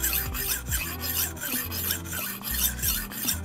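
A dull knife is honed on a sharpener in a series of rhythmic rasping strokes, close and steady, about two strokes per second, with no talk.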